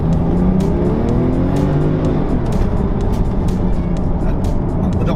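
A Porsche 911 Carrera 4S engine revs loud and close, a rising tone that drops after about two seconds into a dense, sustained roar, alone without talk.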